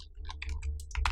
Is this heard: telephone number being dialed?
no